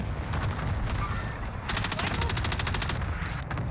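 Rapid bursts of automatic gunfire in Call of Duty: Warzone on Rebirth Island, steady crackling fire that grows denser and louder partway through, heard up close without any voices.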